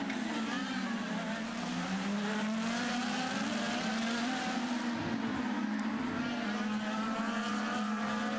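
IndyCar race cars at the Long Beach street race, a continuous engine drone rising and falling in pitch as cars pass, with a faint commentary voice beneath the noise.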